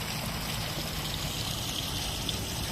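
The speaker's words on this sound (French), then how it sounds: "Là, on a une petite cascade." A small waterfall trickles steadily nearby, its water producing a continuous, even hiss and patter that holds at a constant level throughout, with no voices.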